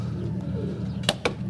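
Pigeons cooing inside a village dovecote in the morning, a low steady murmur of coos throughout, broken near the end by two sharp knocks.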